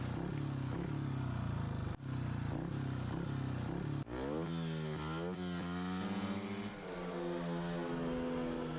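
A loud, constant motorcycle engine in a racing video game drones and revs, with abrupt shifts near two and four seconds followed by swooping rises and falls in pitch as it accelerates.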